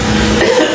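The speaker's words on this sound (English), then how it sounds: "I was clearing my throat." A short, rough throat clearing, close and fairly loud, lasting under a second.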